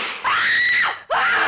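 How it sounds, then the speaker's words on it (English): Blood-curdling screams from the 1959 horror film The Mummy: a loud, sustained, shrill scream, a brief break, then a second scream just as piercing. "Expect blood-curdling screams"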